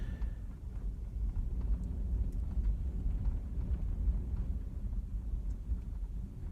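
Strong wind gusts of 50 to 60 mph buffeting a camper, a heavy low rumbling roar with rattling knocks throughout, heard from inside without talking.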